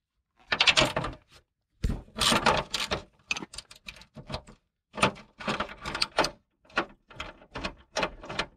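A headlight bracket being worked loose and pulled from the front fender area of a Porsche Panamera 4S, close bursts of plastic and metal rattling, clunks and scraping separated by brief pauses.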